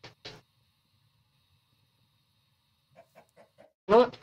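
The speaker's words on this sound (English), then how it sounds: "Found chickens." Chickens clucking in Minecraft, a few short, faint clucks at the start, then a quick series of soft clucks and one louder, closer cluck at the end, with silence between.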